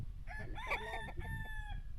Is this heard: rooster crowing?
yes